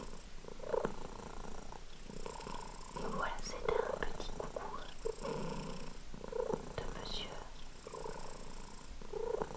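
A cat purrs in close, rhythmic rumbling pulses while a person speaks softly over it.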